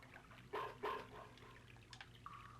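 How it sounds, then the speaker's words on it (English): Two sharp barks from the dog Boney in the game Earthbound 2, close and evenly spaced, followed by faint chirpy game tones. "That's Boney barking."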